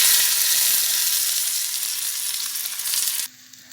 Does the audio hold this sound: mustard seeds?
yes